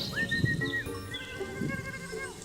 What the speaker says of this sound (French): Les chèvres, elles sont très affectueuses et elles sont curieuses.